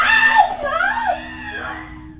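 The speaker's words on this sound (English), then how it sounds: "Her screams ring out as the struggle goes on" A woman screams and wails in a long, high, wavering cry as a man drags her off a porch by the hair during a struggle, loud and close, with a steady hum beneath.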